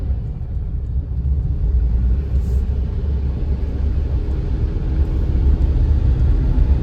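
Tata Punch three-cylinder engine idling and crawling in heavy traffic, heard as a steady low rumble from inside the cabin, even and continuous with no talking.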